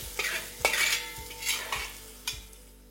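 Well-browned onions frying in a pan for mutton masala curry are stirred with a utensil, giving about six rhythmic scraping strokes with clinks over a soft sizzle, close and without talk.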